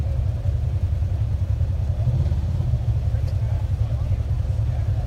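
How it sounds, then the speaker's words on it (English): An off-road race truck runs in a desert qualifying race, the 2018 Parker 425, with a deep, continuous engine rumble holding steady at mid distance while a commentator talks over it. "Here comes another truck"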